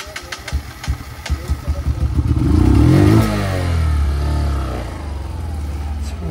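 A motorcycle engine clatters and revs close by, surging in a rising, strained roar before settling into a steady, lower running note near a waterfall.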